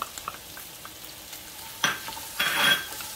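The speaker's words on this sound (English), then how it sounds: "I'm gonna add a little bit of oil there, and then I'm gonna add my onions." Onions frying in a little oil: a soft steady sizzle with two louder hissing bursts as the pan is stirred or the onions settle, no voices.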